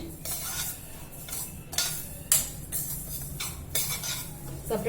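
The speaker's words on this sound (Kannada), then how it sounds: "ಈಗ ನಾರ್ಮಲ್ ಹುರ್ಕೊತಾ ಇದ್ದೀನಿ." Ingredients dry-roasting in a pan as a spoon stirs them, giving repeated scraping and clinking strokes against the metal at an uneven rhythm, close up over a low steady background hiss.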